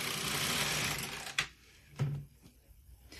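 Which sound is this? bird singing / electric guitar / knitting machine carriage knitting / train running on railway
knitting machine carriage knitting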